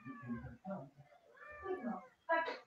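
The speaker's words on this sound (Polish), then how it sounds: "ktoś z Was ma kota" A domestic cat meows several times in short, separate calls, the last one louder and sharper, heard close up with no talk over it.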